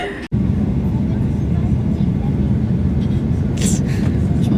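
A passenger airplane taking off, heard from inside the cabin as a steady loud engine roar with a low rumble throughout, after a brief dropout at the start.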